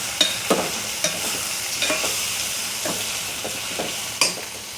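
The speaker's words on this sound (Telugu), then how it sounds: "వంకాయ ముక్కలు వేసిన తర్వాత ఒకసారి కలుపుకుందాం." Eggplant pieces being stirred into cooked onions in a pan, with a steady background sizzle broken by several sharp scraping strokes of a spoon spaced irregularly across the stretch.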